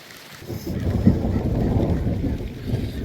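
A thunderstorm brings rain and a deep, rolling thunder rumble that swells after a quiet start and holds steady, with wind buffeting the microphone.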